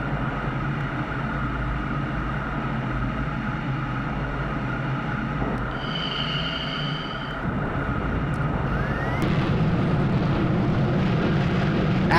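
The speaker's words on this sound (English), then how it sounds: "F-15's coming back in." An F-15 jet with afterburner roars in a combat video game as a continuous loud, rushing drone that swells stronger near the end.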